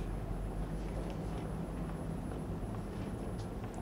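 A helicopter flies over Manhattan in 1967, heard as a continuous broad rumbling drone at a distance with faint city noise, no voices.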